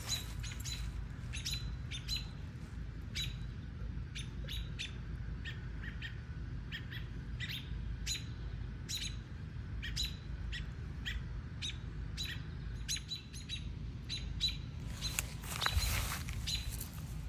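Many birds chirp excitedly outdoors near a Staffordshire terrier that found a baby bird, with rapid repeated tweets throughout and a louder, busier flurry near the end.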